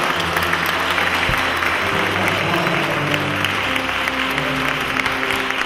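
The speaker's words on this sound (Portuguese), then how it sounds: "Uma salva de palmas para os reis" Wedding guests applaud the newly married couple at a ceremony, a full and continuous round of clapping from a crowd that holds steady throughout, with a low hum beneath it.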